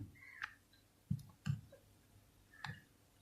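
A computer mouse clicks four times, sharp and quiet, in irregular succession against a low background hum while a router's wireless settings are being configured.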